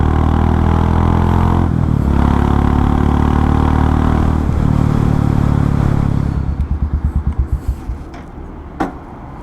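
A Royal Enfield Meteor 350 motorcycle with its catalytic converter removed and a straight exhaust rides past, its loud engine roaring steadily for several seconds. The sound then breaks into a rapid chain of throttle pops before quieting, with one short sharp pop near the end.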